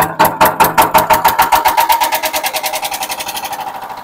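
A diesel generator engine runs loud and close with a steady, thumping piston rhythm that gradually quickens and smooths out.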